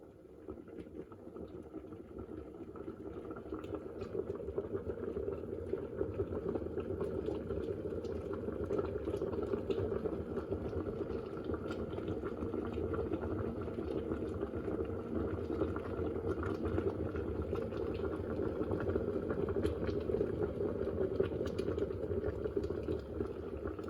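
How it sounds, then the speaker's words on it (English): A Morphy Richards 1.6L soup maker boils soup with a steady bubbling, churning roar that builds slightly in the first seconds and then holds loud and constant, with no talking. "it kind of goes through a cycle of coming to the boil and then going quiet again, then coming to the boil"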